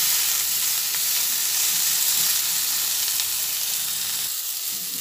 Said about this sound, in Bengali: ভালোভাবে এটা লাল লাল করে ভেজে নেব।